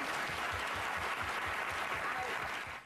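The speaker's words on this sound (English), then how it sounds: "And they all applaud" Sustained applause from a television studio audience during a talk-show debate on gun rights, a dense, steady clatter of many hands that holds loud throughout and tapers slightly at the very end.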